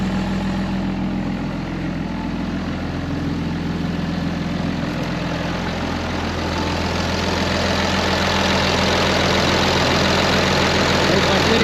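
Steady low engine hum with a constant broadband whir from a FASS lift pump running on a 2005 Ram 2500, continuous and fairly loud with no breaks, no talk heard.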